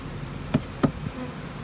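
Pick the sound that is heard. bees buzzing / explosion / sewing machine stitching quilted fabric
bees buzzing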